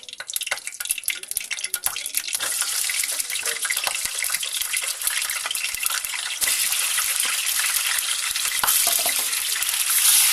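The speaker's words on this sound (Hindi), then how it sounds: "इसमें हम चिकन को ऐड करेंगे।" Chicken pieces frying in hot oil in a kadhai on a stove, a loud steady crackling sizzle that runs throughout with occasional stirring scrapes and a brief surge partway through.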